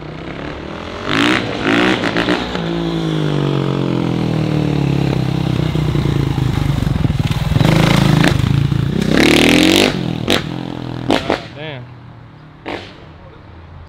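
A dirt bike engine revs up and holds a rising, buzzing drone for several seconds before cutting off, followed by scattered clatter and short bursts of noise nearby.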